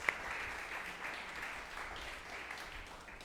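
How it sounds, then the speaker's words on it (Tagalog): Congregation applause for Jesus during a church service, a soft, distant wash of steady clapping that continues evenly throughout without talk. "The best pong palakpak para kay Jesus"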